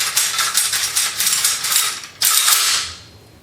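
A G&P airsoft M14 DMR bolt slides forward and back with a smooth metallic scraping rasp in close repeated strokes, then a sharper clack and a longer slide before it fades.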